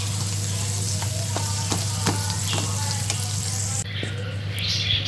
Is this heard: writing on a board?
no